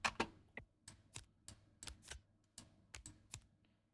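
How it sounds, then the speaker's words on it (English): A deck of playing cards is riffled and snapped during a tabletop card game playtest, giving about a dozen sharp, crisp flutters and slaps in an uneven rhythm, close and fairly quiet. "And do this deck one more shuffle."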